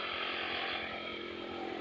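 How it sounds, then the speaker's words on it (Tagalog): A motorcycle goes by on a road toward Santa Cruz with a buzzy, raspy engine whine, steady and fairly close across the short stretch with no voices. "Ayan, may dumadaang motor."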